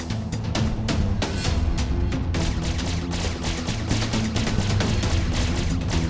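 Rapid gunfire from the Dark Riddle video game, a dense stream of sharp repeated shots over a steady rumbling game soundtrack, loud and continuous throughout.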